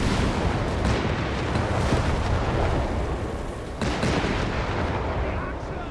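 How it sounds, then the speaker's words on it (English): Sherman tanks blowing up in the video game Company of Heroes 3, heard as a dense, continuous wall of loud booms, blasts and gunfire that barely lets up, with a fresh heavy burst near the end. "God, I really just love how the tanks now explode."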